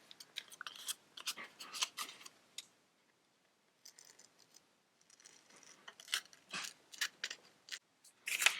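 Scissors snip through stamped paper cutouts in a quiet room, a run of close, crisp cuts in short bursts with a pause in the middle, then more snipping.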